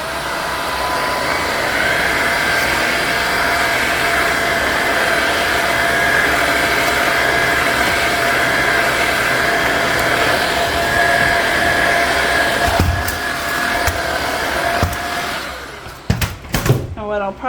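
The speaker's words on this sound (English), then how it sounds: "Now the great thing about this filter is that you can just vacuum it." A steady, loud vacuum motor whirs continuously while cleaning an air purifier filter, then sputters and rattles near the end as the suction catches and shifts.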